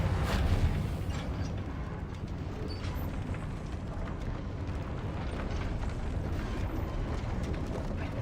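Reparo spell in Hogwarts Legacy repairing a broken lift: a loud, sustained rumbling and grinding roar that holds steady for the whole stretch, with no voices over it.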